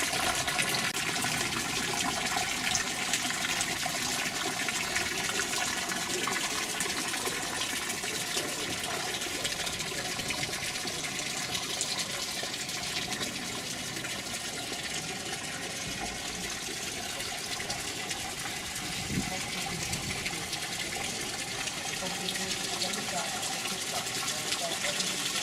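Water from the Ropieur fountain on the Grand Place in Mons, a steady broadband splash and gush running continuously outdoors with faint background activity.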